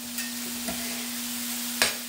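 Minced garlic sizzling in a hot pan while being stirred: a continuous close frying hiss with a low steady hum beneath and a few brief scraping stirs, one sharper clatter near the end, no voices.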